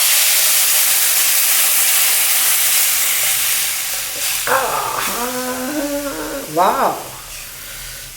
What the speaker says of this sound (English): Super rasam tadka. Rasam nice boiling.